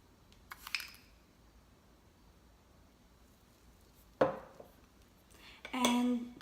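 A spoon scrapes and clinks against a bowl while mixing sugar into henna powder, giving a few scattered metallic taps and a louder stirring scrape near the end, with quiet pauses between.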